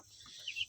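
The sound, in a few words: chicks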